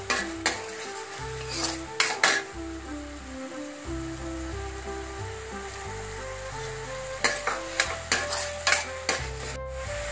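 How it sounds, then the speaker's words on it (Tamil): Chopped onions sizzling in hot oil with ginger and garlic for channa masala, a soft steady fry broken by bursts of a spoon scraping and clattering against the pan, close and moderately quiet. "இப்ப நம்ம நறுக்கி வச்சிருக்கிற ஆனியன்ஸ் போட்டுக்கலாம்."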